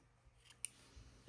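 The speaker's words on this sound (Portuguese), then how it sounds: "eu vou cortar o meu fio" A single crisp snip of scissors cutting crochet yarn while making a crochet basket, heard alone and close, with a faint soft thump just after.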